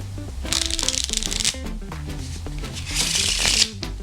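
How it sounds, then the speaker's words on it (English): A deck of playing cards is riffle shuffled twice, each a quick ripping flutter of about a second, close and crisp, with a soft squaring-up tap between the two riffles. "This will allow you to create a much smoother sounding riffle."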